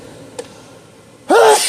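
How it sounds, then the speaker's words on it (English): After a faint click and near silence, a sudden loud sneeze bursts out close by, cut off at the end. "A sneeze sneak up on me."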